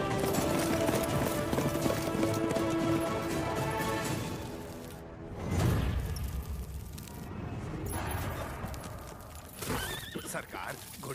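Horse hooves clip-clopping alongside neighs and whinnies in a dramatic scene with music, fairly loud and steady, with voices speaking over parts of it.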